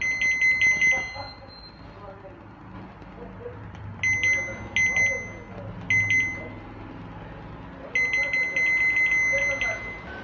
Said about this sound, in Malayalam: ഒരു ബീപ്പ് ശബ്ദം കേട്ടു